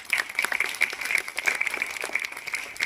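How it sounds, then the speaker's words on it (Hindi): An audience at an award ceremony claps, a moderately distant patter of applause that sounds rather thin and ringing and carries on steadily without a break. "अभी तालियां और बजाएंगे आप उसके लिए।"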